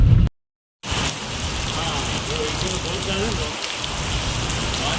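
Dense, steady monsoon downpour hisses on surfaces close by on the Bhuj–Bhachau highway in Kutch, interrupted by a brief cut to silence near the start, with faint voices underneath.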